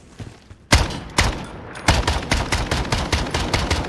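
Loud rapid gunfire breaks out in Call of Duty Warzone inside a prison zombie map, starting with a sharp blast and continuing as repeated close bursts of automatic shots over a few seconds, no talking.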